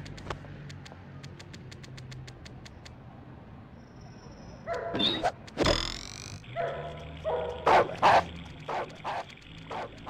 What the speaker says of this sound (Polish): Zła jest taka, że wejścia do podwórza pilnuje zły pies.